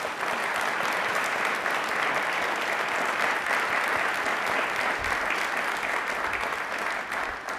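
Vigorous studio audience applause for ISRO on a quiz programme, a thick, unbroken roar of clapping that holds strong for more than seven seconds.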